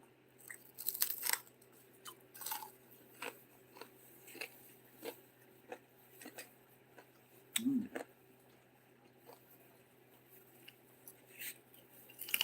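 Crunchy pig skin and sisig being chewed close up, with repeated soft crunches and bites in an irregular rhythm over a quiet room background.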